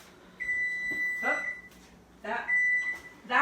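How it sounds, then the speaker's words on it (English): A kitchen timer set for cooking onions gives two long steady electronic beeps with a pause between them, while a person speaks over and between the tones. "that was the timer for the onions"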